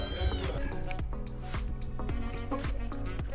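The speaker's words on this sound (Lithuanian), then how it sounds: "Dar katė." Another cat meows nearby during a road trip stop in Bulgaria, a few short calls mixed with background chatter and clatter.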